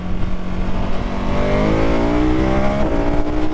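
A 2021 KTM 1290 Super Adventure S motorcycle engine pulls hard under acceleration, its steady drone rising in pitch through the gears with a brief shift break, loud and close throughout.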